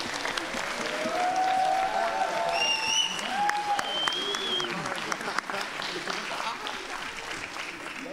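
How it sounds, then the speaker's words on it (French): Sustained applause from an audience after a film screening at a student association campaign debate, loud and steady, with faint whistles and voices mixed into the clapping. "je pense qu'on peut tous les applaudir pour ce film"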